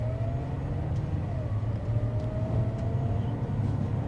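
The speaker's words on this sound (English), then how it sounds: "I want you guys to experience what this is like when I floor it, and I'm only using the electric motors." A 2024 Mazda CX-90 PHEV plug-in hybrid SUV floored in electric-only mode gives a steady low road rumble with a faint rising motor whine, no voices.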